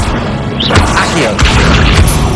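An Accio pulling spell cast mid-fight in Hogwarts Legacy, a loud crashing whack followed by further thudding impacts and a quick swish amid dense combat noise.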